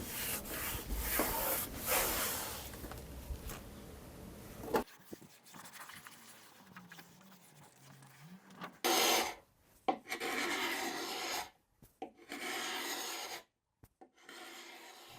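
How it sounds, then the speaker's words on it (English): A hot rag wipes residue off an old veneered dresser, rough rubbing strokes close by, steady at first, then broken into scattered short swipes with gaps of quiet. "A clean hot rag and wipe off all that residue."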